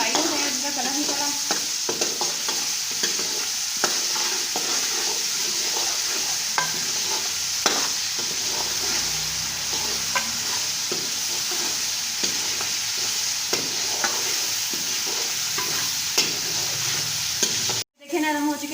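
Salted potato and carrot pieces frying in a pan: a continuous, close sizzle with frequent scraping stirs of a spoon, steady and moderately loud, and no one talking.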